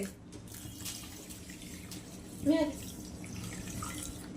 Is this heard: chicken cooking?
no